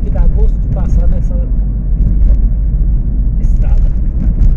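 A car passes on a potholed rural road between Frei Gaspar and Ouro Verde de Minas in Minas Gerais, Brazil, heard as a loud, continuous low rumble with a voice talking over it.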